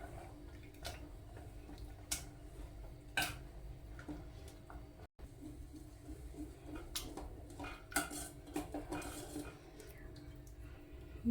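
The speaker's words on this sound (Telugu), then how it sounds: "టమాటాలు మగ్గినాయి కదా, ఇప్పుడు మెత్తగా మెదిపేసుకుందాము." Cooked tomatoes are mashed in a pot for tomato rasam, giving repeated soft clinks and scrapes of a utensil against the metal pot, irregular and close but fairly quiet, over a steady low background hum.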